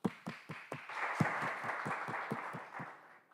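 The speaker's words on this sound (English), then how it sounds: "Please join me in a welcome round of applause" An audience at a research talk applauds, starting with a few distinct claps that merge into steady clapping before fading out; no talking.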